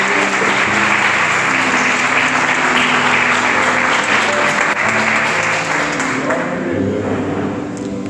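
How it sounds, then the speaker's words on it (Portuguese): A church congregation applauds at a Portuguese-language worship service before a sermon. The clapping is loud, sustained and close, with soft sustained instrumental tones underneath, and it eases slightly near the end. "Podeis assentar, mas aplaudindo o nome do Senhor."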